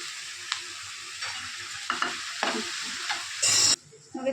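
Tomato and carrot sautéing in a pan for noodles, a steady close sizzle with repeated spatula scrapes and stirs, one louder burst of frying near the end, no talk.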